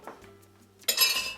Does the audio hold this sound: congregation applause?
no